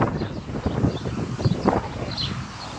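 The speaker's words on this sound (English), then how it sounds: "Windy today, as you can see." Gusty wind buffets the microphone outdoors on a Nikola Plus 2664Wh electric unicycle ride, a steady rumbling roar with louder bursts, no talking.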